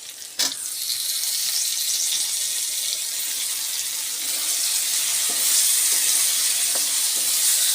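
Tomatoes fry in a hot pan for a mushroom dish, a bright continuous sizzle after a sharp clatter at the start, with occasional stirring scrapes and no talking.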